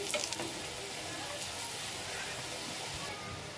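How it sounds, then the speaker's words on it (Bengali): Chocolate pitha cakes deep-frying in hot oil give a steady, close sizzling hiss that holds at an even level throughout. "আরো 5টা এভাবে ডুবো তেলের মধ্যে ভেজে নিতে হবে 2 থেকে 3 মিনিট উল্টিয়ে পাল্টিয়ে ভালো করে"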